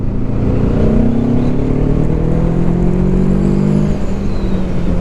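MASH K750 sport motorcycle accelerating hard in second gear out of a corner, its engine note rising steadily in pitch, loud and close throughout without any talk.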